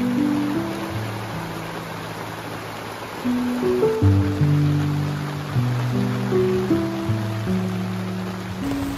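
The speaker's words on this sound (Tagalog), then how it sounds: "At bumuhos na nga ang napakalakas na ulan." Heavy rain pours down at a riverside campsite with a van and roof tent, a dense continuous hiss with scattered tonal sounds drifting over it that swells a little midway.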